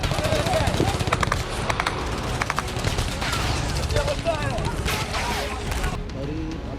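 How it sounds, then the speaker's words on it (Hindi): Israeli army gunfire in Khan Younis, a continuous crackling stream of rapid shots and bursts, fairly close and loud, with voices mixed into the noise throughout. "कुछ दूर जाते ही लोगों पर इजरायली सेना ने फायरिंग शुरू कर दी।"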